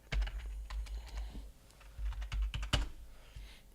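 Rapid keystrokes on a computer keyboard clatter in irregular bursts with short pauses, close and clear, no talking over them.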